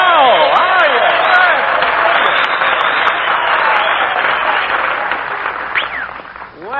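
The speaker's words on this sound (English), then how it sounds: "did you hear that ovation, Mary?" A studio audience at a 1940 radio comedy broadcast breaks into loud, sustained applause with cheers and whistles, a dense wash of clapping that holds steady and fades slightly near the end.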